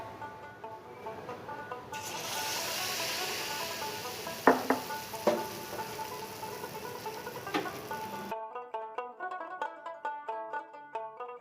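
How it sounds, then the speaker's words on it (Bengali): Batter-coated prawns deep frying in hot oil, a steady close sizzle with a few sharp clinks of utensils, then the frying cuts out and gentle music carries on. "একবার করে ভেজে রাখা চিংড়ি মাছগুলোকে আর একবার করে ব্যাটারের মধ্যে কোট করে আমি ডিপ ফ্রাই"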